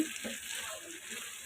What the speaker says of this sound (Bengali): মিডিয়াম কিলো হিটে একদম মশলার সাথে বরটাকে কষতে কষতে একদম পোড়া ভাজা ভাজা করে ফেলবো